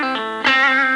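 A three-pickup electric guitar set to the first pickup selector position plays loud, distorted sustained notes with a bright harmonic tone. A fresh attack comes about halfway through the second. No voice is heard.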